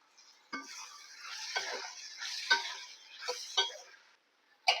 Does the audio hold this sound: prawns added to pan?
yes